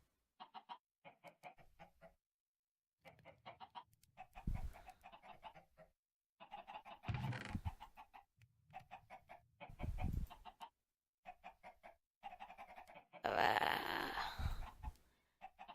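Chickens in the video game Minecraft cluck in repeated bursts of short calls with pauses between them, up close and with no speech over them.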